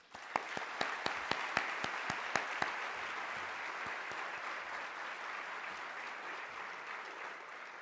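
Audience at an awards ceremony breaks into sustained applause, with a few sharp, close individual claps at the start over a broad, even wash of clapping from the crowd.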